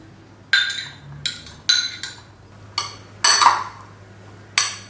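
A spoon clinks repeatedly against a bowl while stirring salad, with about seven sharp, separate metallic knocks spaced irregularly over a faint low hum.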